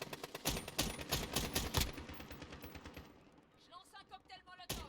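Warzone video game gunfire crackles in fast, close bursts for about two seconds, then thins to scattered shots while a player talks over the game sound.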